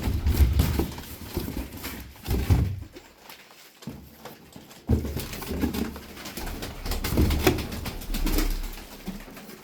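Tumbler pigeons in a coop coo and shuffle close by, throaty calls coming in uneven bursts over about ten seconds, with a couple of short quiet gaps and some fluttering rustle between them.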